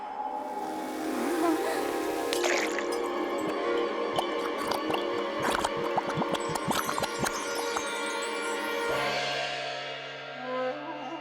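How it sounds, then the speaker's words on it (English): A pill dropped into water fizzes and dissolves, with a steady bubbling hiss and scattered drips and squishy pops, loud and close, alone without voices, before a low tone rises near the end. "place pill in water and step back"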